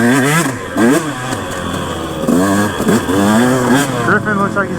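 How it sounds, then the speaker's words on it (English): A KTM 150 dirt bike revs and rides along a wooded trail, its engine note rising and falling in repeated bursts of throttle, close and loud, with other bikes and voices mixed in. "Doing a little trail riding on the KTM 150 today."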